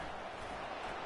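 A stadium crowd roars at an American football game as the home defense tries to keep the opponent pinned deep, a dense, steady wall of cheering over its short length.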